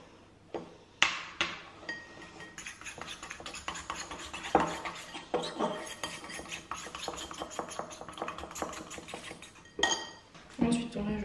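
A spoon scrapes and taps against a bowl while mixing a neutral hair mask with a teaspoon, a run of quiet clinks and scraping strokes with a few sharper knocks, close and fairly faint.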